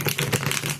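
A deck of cards being shuffled, a quick close burst of crisp riffling clicks and flutters lasting under a second.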